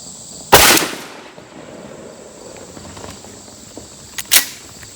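A Mossberg 835 shotgun firing 3.5-inch 12 gauge buckshot reloads at a range: one loud, sharp blast with a quick decaying echo, then a second, fainter crack, with a steady insect-like outdoor hiss behind.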